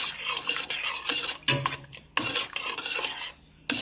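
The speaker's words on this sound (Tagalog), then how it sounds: "Tapos lagyan natin ng oyster sauce. Ayan. Tapos haluin natin." Tomato sauce and oyster sauce being stirred in a pan, a close scraping and rasping of a utensil against the metal in uneven back-and-forth strokes with short pauses, no talking.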